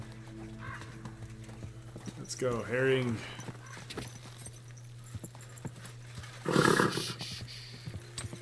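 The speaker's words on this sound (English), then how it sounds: "There's my horse." A horse's hooves clip-clop in the video game Kingdom Come: Deliverance 2, soft steady steps under a voice, with a brief whinny and a louder snort or neigh breaking in.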